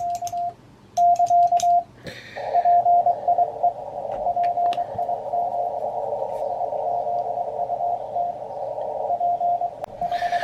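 Steady CW side tone from a ham radio transceiver, a Kenwood TS-890 or Icom IC-7610, sounding as a clear mid-pitched beep: short keyed dits first, then a long sustained tone with brief breaks, alone and fairly loud.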